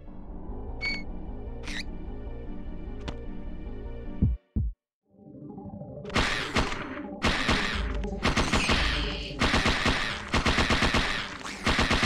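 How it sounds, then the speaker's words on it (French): Rapid bursts of gunfire from shooting in Parasite Eve 2, a dense run of sharp loud shots in quick rhythmic clusters after a stretch of pulsing game music and a brief silence, with no talk. "Je sais pas sur quoi je tire, mais je tire dessus."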